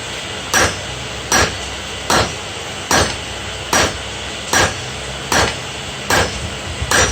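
Hot steel for a seax blade is struck with a hammer about once per second on the anvil, nine sharp, loud, evenly spaced ringing blows with a faint hum between them.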